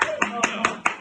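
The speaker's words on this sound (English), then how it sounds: "Why are you clapping?" A run of four sharp, evenly spaced hand claps, close and crisp, under a voice that keeps talking.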